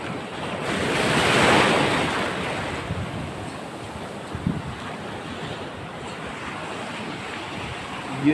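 Ocean waves surge and wash steadily at sea from a small fishing boat out catching lobster, with heavy wind buffeting the microphone and a swell building early, then a continuous rushing wash with no voices.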